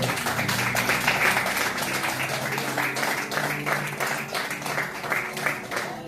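Church congregation clapping for Jesus during a worship service, a steady wash of applause with continuous rhythmic claps and some voices mixed in throughout.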